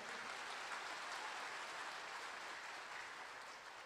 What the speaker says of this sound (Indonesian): Kalau tepuk tangan yang mantap gitu dong